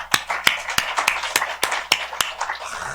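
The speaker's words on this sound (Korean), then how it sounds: "주님 영광의 박수." A church congregation claps during a Sunday afternoon worship service, giving a quick run of about ten sharp claps at fairly even spacing. The sound is moderately loud and there is no talking.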